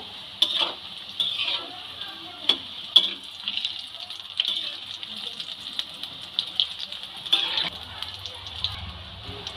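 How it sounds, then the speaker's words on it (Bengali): Chilli fritters dipped in gram flour batter fry in hot oil, a quiet steady sizzle broken by scattered clinks and scraping of a utensil against the pan, with no talking over it. "সব লঙ্কাগুলো আমি এইভাবেই বেসনে চুবিয়ে ভেজে নিচ্ছি।"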